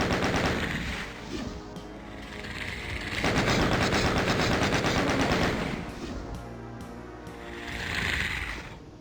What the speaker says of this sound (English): Go ahead and just take them out with the chain gun and the rockets.